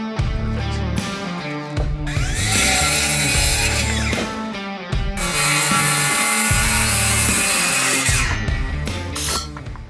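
A wooden framing brace is cut apart with a power saw during a kitchen remodel, a loud, harsh buzzing cut in two long bursts separated by a brief pause, with no talking.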